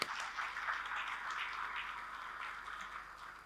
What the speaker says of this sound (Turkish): Bir alkış öncelikle onları alalım lütfen.